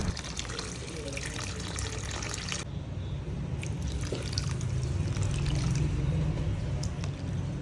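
Water poured into a pot of bulalo beef soup, a continuous splashing, trickling rush that changes character partway through and carries on steadily at moderate volume.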